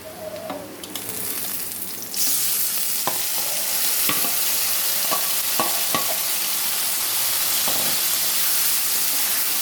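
Chapila fish slid into a pan of fried onions for a steamed fish dish; a sharp burst of loud sizzling starts partway in and continues as a strong, close hiss with occasional utensil taps.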